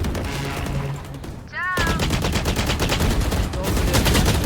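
Rapid automatic gunfire in a video game, dense loud bursts of shots with a brief pause partway through, heard close and continuous.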